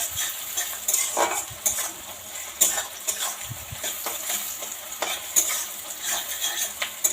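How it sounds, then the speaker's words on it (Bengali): Chicken with chopped onions, salt, turmeric and a little lemon juice cooks in a pan, a close sizzle under frequent stirring scrapes and metal utensil clinks against the pan, with no talking. "এদিকে চিকেনটা রান্না করছি, লবণ নুন হলুদ আর একটুখানি লেবু রস দিয়ে দিচ্ছি।"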